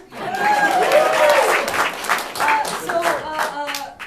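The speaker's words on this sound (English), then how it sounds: "who here is from a place? Clap your hands." A crowd claps and cheers together, loud and sustained throughout, with scattered shouts and voices mixed into the applause.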